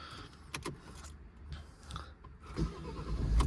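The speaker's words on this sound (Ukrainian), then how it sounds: "Автомобіль заводиться чітко, рівненько." Volvo V50 1.6 diesel, 84 kW, starting up: scattered clicks and a whirring crank lead into a low engine rumble that builds and grows louder toward the end, recorded close with no talk.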